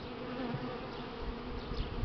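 Buckfast honey bees hum in an opened hive at a spring inspection, a steady low buzzing drone throughout, fairly quiet and close.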